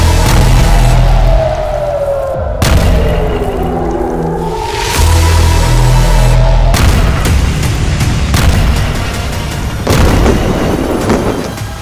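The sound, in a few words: bombing explosions in news footage of Gaza Strip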